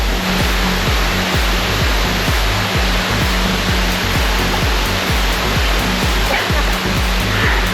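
A secret waterfall roars steadily and loudly, a dense unbroken rush close by with a low rumbling churn, no voices over it.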